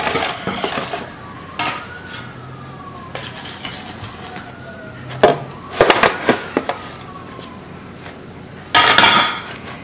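A greased metal bread pan clatters while homemade white bread is being shaped, with scattered knocks and scraping clanks, a louder burst of rattling near the end, and quiet gaps between.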